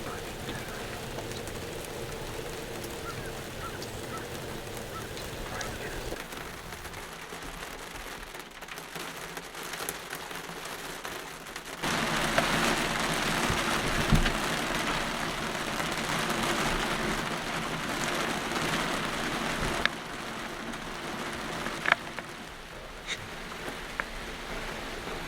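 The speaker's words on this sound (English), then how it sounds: "after the sun came up, the rain definitely picked up" Rain falls steadily outdoors during a deer hunt, a continuous hiss of drops on surfaces that grows noticeably heavier partway through, with no talking.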